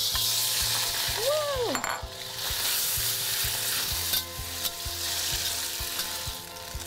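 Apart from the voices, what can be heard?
marinated beef frying in a hot oiled wok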